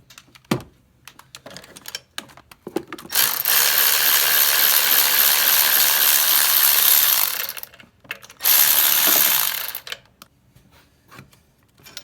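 Ratchet spinning a bolt loose from a bracket in a Chevy Trailblazer engine bay, two loud buzzing bursts of rapid clicking separated by a pause, framed by scattered metallic handling noises.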